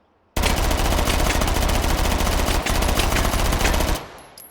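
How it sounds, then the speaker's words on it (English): A Spectre M4 submachine gun firing 9x19 Parabellum rounds in one long, loud, continuous automatic burst at a high rate of fire, close up, cutting off abruptly near the end with no voices. "Then we have the Spectre M4, introduced in 1984, shooting 9x19 Parabellum."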